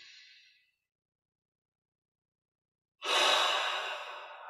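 A deep, slow inhalation through the nose during a guided meditation, rising suddenly after a stretch of silence and holding loud and close, preceded by the faint tail of an earlier breath.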